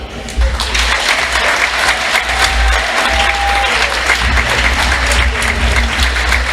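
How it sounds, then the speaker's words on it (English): A high school wrestling meet crowd applauds its senior wrestlers, with dense sustained clapping from many hands filling the gym at a steady, loud level from start to finish. "Final round of applause for our seniors tonight, Caleb Picala and Otto Mel."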